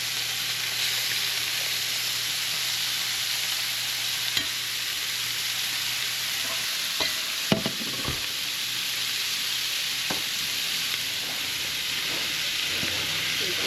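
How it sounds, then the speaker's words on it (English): Kerrygold butter sizzling in a hot pan, a steady close hiss running throughout, broken by a few sharp clinks and scrapes near the middle. "we're going to put a little piece of Kerrygold butter in there"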